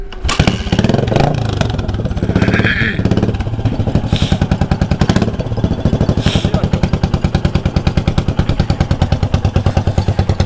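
A chopper-customized Yamaha SR400 single-cylinder motorcycle, just kick-started cold, revs briefly and then settles into a loud, close, steady thumping idle with an even rhythmic beat.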